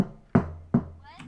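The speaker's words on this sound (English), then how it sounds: "Hit it with your mic. Hit your mic." A Blue Yeti microphone is struck three times in quick succession, each a sharp, close, hollow knock with a brief ringing decay.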